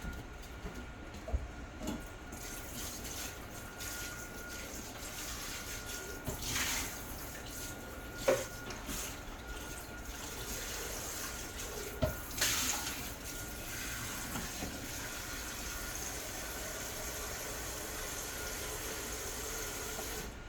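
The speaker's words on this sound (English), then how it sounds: "So I am going to go ahead and rinse this out." Tap water runs steadily for about twenty seconds as a container is rinsed out in a kitchen, a quiet, even rushing with a few faint clunks and splashes.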